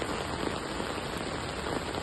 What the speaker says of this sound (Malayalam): ഭയങ്കരമായ മഴയാണ് ഗൈസ്, ഭയങ്കരമായ മഴയാണ്